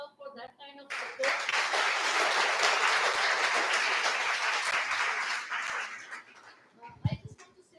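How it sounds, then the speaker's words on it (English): Audience applause at a professional talk, starting abruptly after a brief bit of speech, holding as a dense, even clatter of many hands for about five seconds, then tapering off. A few isolated sounds follow. "Can we clap for sir for that kind of support?"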